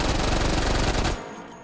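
A Mac 10 submachine gun fitted with a muzzle brake fires a dense, rapid burst in the H3VR shooting game, loud and continuous for about a second before cutting off to a quieter tail.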